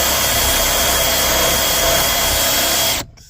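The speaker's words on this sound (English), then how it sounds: "sand it good" Steady, loud power-tool sanding on a 2011-2018 Mercedes E-Class or CLS during a car amplifier install, a continuous broadband whir close by that cuts off abruptly near the end.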